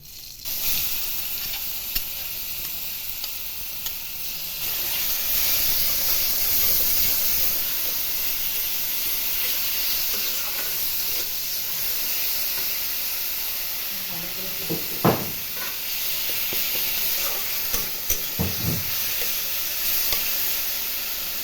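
Spice paste of ground spices with turmeric, salt and chilli powder sizzles steadily in a hot kadai, a close, continuous frying hiss broken by a few sharp stirring scrapes near the end.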